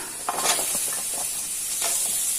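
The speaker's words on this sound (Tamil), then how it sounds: "இஞ்சி கொஞ்சம் வதங்கணும் அதே சிம்லே இருந்து வதங்கினா போதுங்க" Ginger and garlic sautéing in a pan on a low simmer for a pirandai chutney: a short, steady, close sizzling hiss with soft stirring scrapes and no talking.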